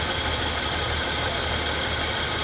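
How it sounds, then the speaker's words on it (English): An old 1965 Chevy C10 pickup engine idles close by with a steady, slightly rough low rumble and faint rhythmic knocking, no talking. "It's idling pretty well."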